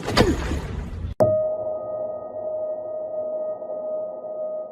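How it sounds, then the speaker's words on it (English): A wooden gavel strikes marble courthouse steps with one sharp crack after a busy, noisy moment, followed by a lingering sustained ringing tone. "That wasn't just a wooden gavel hitting the marble steps."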